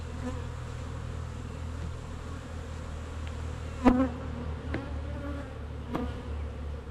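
Honey bees hum around an opened backyard hive, a steady close drone with a few louder passes and light knocks as frames are worked, no talking.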